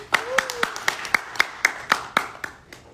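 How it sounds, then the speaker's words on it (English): A small audience at a Filecoin Toronto summit clapping for a speaker, sparse, evenly spaced claps from a few people, close and distinct, tapering off after three seconds, with a brief voice murmuring early on. "let's give him a round of applause."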